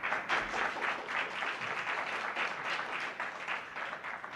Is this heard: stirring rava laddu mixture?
no